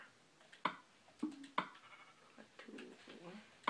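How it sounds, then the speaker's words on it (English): Sheep bleating in the Minecraft video game, several short separate bleats spread across the clip, fairly faint, with someone talking in between. "I actually found some sheep."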